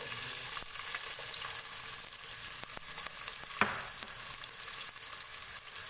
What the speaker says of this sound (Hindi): प्याज को फ्राई करेंगे। बहुत ज़्यादा फ्राई नहीं करना है, हल्का सा फ्राई करना है।